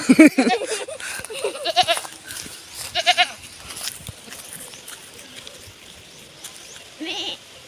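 Goats at a farm bleat several times, loud and close at first, then thinner and more spaced out, with a final bleat near the end over faint outdoor background.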